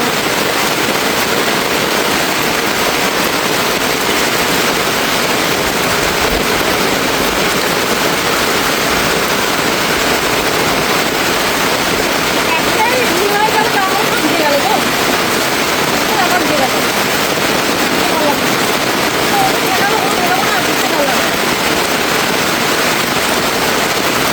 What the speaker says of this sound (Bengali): বিশাল বৃষ্টি হচ্ছে, মুষলধারা বৃষ্টি একদম।